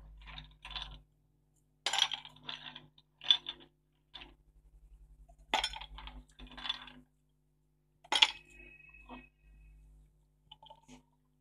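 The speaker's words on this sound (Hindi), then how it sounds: "हम इसमें सबसे पहले आइस क्यूब डालेंगे।" Ice cubes drop into a glass for a grape milkshake: a series of separate hard clinks and rattles spaced across several seconds, close and fairly quiet, with silence between them.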